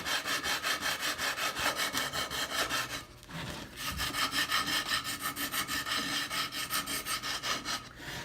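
Hand tool rasping or sawing across wood while shaping the stem of a catboat half-hull model, steady rhythmic strokes close by with a brief pause partway, no talk.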